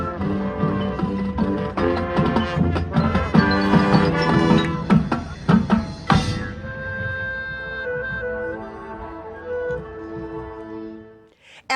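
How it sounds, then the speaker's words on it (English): Hazleton Area High School's award-winning marching band plays loudly with brass and drums together, then a sharp hit gives way to sustained held chords that fade out. "This is the sound of an award-winning high school marching band."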